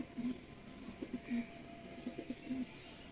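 Pigeons of an old high-class breed coo softly in a low repeated pattern of short notes, faint and steady over a noisy loft background with no speech.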